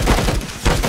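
Rapid bursts of M1 rifle gunfire in the CS:GO video game, loud and close, with a short lull in the middle before the shooting resumes.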